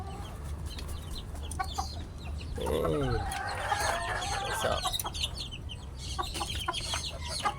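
Tied gamefowl roosters crow once in the middle and cluck intermittently, moderately close, against steady outdoor background noise.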